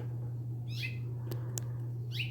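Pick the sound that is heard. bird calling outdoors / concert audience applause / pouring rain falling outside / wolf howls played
bird calling outdoors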